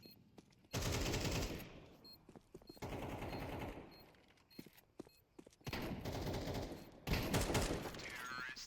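Automatic rifle fire from a Counter-Strike match on the Inferno map rattles out in several loud, sustained bursts separated by short gaps, with quieter single shots and thuds in between.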